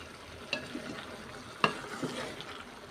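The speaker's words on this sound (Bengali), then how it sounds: "লাউয়ের সবজি প্রায় কষানো হয়ে গেছে, সাথে একটু মসুরের ডাল দিব।" Bottle gourd curry being sautéed in a pan, with a low continuous sizzle broken by two or three distinct scraping stirs of the spatula, close and fairly quiet, with no talking.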